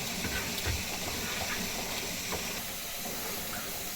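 Home Perfect pressure cooker with its valve releasing steam while cooking pork pâté, a steady broadband hiss with a faint watery bubbling undertone, continuous and moderately loud throughout.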